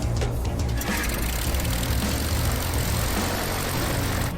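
Propeller aircraft engine running up for takeoff, a loud continuous roar and drone filling the cabin steadily throughout with no break.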